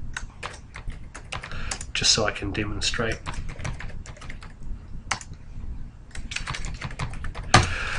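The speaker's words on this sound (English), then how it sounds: "as I was typing those in there" Rapid clattering of computer keyboard keys, typed in bursts while a person talks over it.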